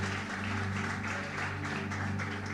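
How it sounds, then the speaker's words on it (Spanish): Church congregation applauding during a Spanish-language sermon, a steady broadband patter of clapping sustained throughout, heard over a low sustained organ or keyboard drone. "¿Cuántos levantan un aplauso al Señor?"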